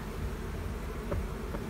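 Honey bees buzz around a comb in a hive: a close, steady, dense hum of many wings, alone and unbroken through the short moment.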